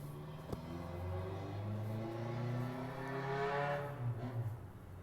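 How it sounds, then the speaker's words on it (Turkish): A car engine revs loudly, its exhaust roaring and rising in pitch over several seconds before easing off. "arabanın egzoz sesini duydunuz mu? Çok kötü bağırıyor ya."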